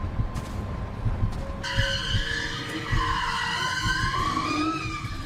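A car does donuts at a street takeover, its tires skidding in a long, loud, continuous screech over a rumbling engine, with the squeal rising and wavering in pitch as the car circles.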